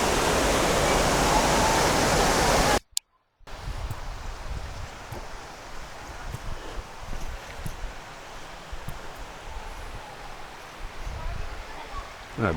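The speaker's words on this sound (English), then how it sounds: "That's a waterfall." Brasstown Falls rushes as a loud, steady hiss of falling water for the first few seconds, then cuts out and returns as a softer, more distant wash with faint rustling.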